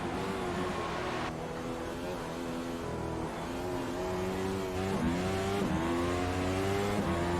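An F1 car's engine screams through upshifts and revs during a hot lap at Suzuka in iRacing, loud and steady with rising pitch sweeps and a few gear changes.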